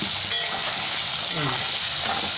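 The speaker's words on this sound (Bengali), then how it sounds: "একটু হলুদ দেবো, তবে এটা হলুদ দেবো, একটু ভালো লাল লাল করে ভেজে নেবো" Potatoes with turmeric fry in a pan, a steady close sizzle with faint stirring scrapes running throughout.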